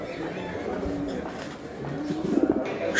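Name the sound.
fancy pigeons cooing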